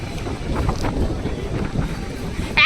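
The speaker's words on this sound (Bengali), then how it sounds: "ফোনটাই হাতে ধরে রাখা মুশকিল হয়ে যাচ্ছে এত হাওয়া হচ্ছে" Strong gusting wind on a river buffets the microphone with loud, uneven roaring bursts, rising and falling outdoors near open water.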